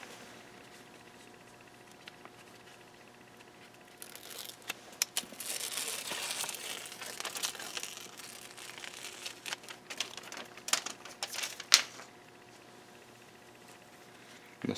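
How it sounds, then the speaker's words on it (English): Adhesive backing peeled off a stealth strip for a Lone Wolf climbing stick, a quiet crinkly rustle and tearing with scattered small clicks and crackles building over several seconds. "you'll take the half of the stick that comes with the adhesive and peel it off"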